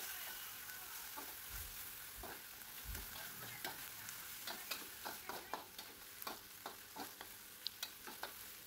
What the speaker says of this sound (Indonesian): Ini kita masak sampai teri nasinya matang lalu dimatikan.